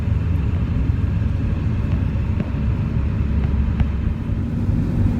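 Inside a moving car, a steady low road and engine rumble fills the cabin, with only faint small ticks and no voices.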